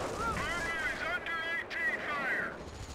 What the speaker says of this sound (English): AT fire.